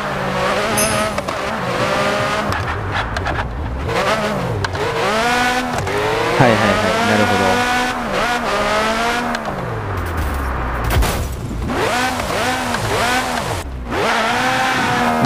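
A Car Parking video game car engine with low idle revs continuously, a somewhat high, light tone, its pitch climbing and dropping through gear changes, loud and close, with a brief Japanese voice murmuring over it.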